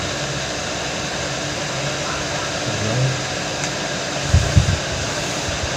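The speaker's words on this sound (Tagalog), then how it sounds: "Testerin na natin yung motor." A ceiling fan motor runs on test after a no-power fault, giving a steady, fairly loud broadband whir and hum, with a few low thumps near the end.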